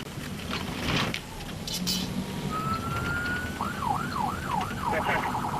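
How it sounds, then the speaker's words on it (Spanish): Convoy escort vehicles in Iraq sound sirens to warn drivers aside: a steady tone gives way to a rapid rising-falling wail over loud road and engine rumble. "Las sirenas previenen a los conductores iraquíes para que se aparten."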